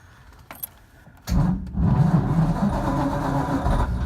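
A classic car engine turns over with a brief cranking and jangle, then catches and settles into a steady, close idle rumble that runs to the end.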